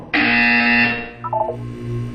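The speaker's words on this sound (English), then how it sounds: "You will hear a buzzer. When you hear the buzzer, look down at the floor." A loud electronic buzzer from the video game Portal 2 sounds once, a harsh sustained tone for nearly a second, followed by a few short quieter beeps and a faint low hum.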